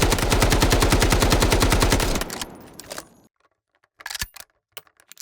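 AKM rifle fires in the video game Delta Force as a rapid, loud, evenly spaced full-auto burst of about two seconds, followed by a fading tail, a short silence and mechanical clicks and clatter.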